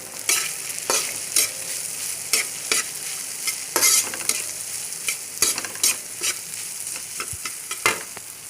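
Spicy fried rice seasoned with chili powder is stir-fried in a pan, with a steady sizzle broken by repeated sharp scraping strokes of the spatula, close and loud with no voices.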